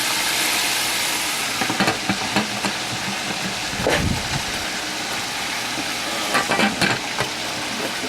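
Chicken frying and browning in a pressure cooker, a steady loud sizzle that runs throughout, broken by occasional clacks and scrapes of stirring or handling.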